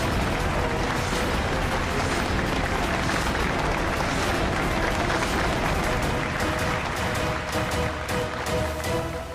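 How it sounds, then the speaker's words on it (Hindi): An audience claps and cheers for a couple on stage at a Hindi TV serial event, loud, dense and continuous applause that fills the whole stretch and tapers slightly at the close. "गाइस तालियां"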